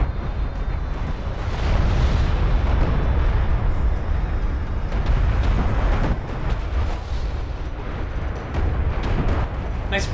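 Missile ship barrage explosions in the RTS game Homeworld: Deserts of Kharak rumble loudly and continuously, a dense roar of overlapping blasts with deep low boom throughout and a few sharper bursts.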